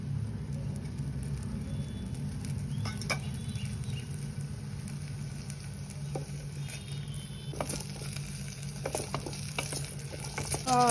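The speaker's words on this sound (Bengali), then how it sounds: "ভাজা হচ্ছে।" Potato pieces fry in an Agaro multi cooker with a steady close-up sizzle and a low bubbling hiss, broken by a few sharp stirring clinks and scrapes toward the end.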